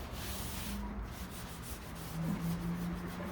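Steady abrasive scraping and rubbing as dirt and gunk are cleared from a window track, continuous and close, with no voices.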